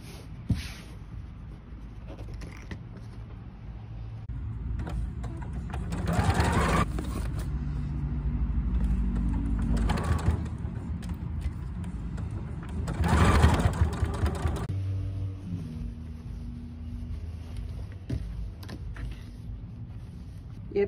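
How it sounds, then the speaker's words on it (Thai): A sewing machine stitches along the opening of a fabric tote bag, running in steady close whirring bursts with brief pauses and handling sounds between seams. "เย็บด้านปากกระเป๋าเดี๋ยวเย็บเส้นล่าง"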